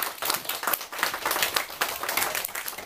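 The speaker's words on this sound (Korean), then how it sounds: "찬성 측에도 큰 박수 보내주세요." Applause from the audience at a classroom debate, a short burst of brisk, close clapping that continues steadily throughout.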